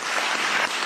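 Studio audience applauding during a French radio word-game broadcast, a dense, steady wash of clapping lasting under a second, loud and close with no voices over it.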